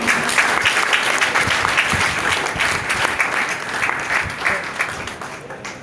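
Steady applause from an audience at a union meeting, dense clapping filling the hall for the whole stretch, with a voice faintly audible beneath it.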